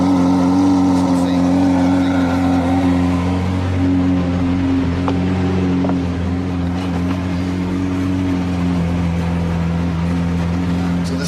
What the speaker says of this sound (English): This car is so loud, you'll hear it coming from miles away.